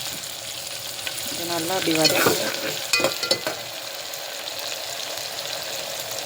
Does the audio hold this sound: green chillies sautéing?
yes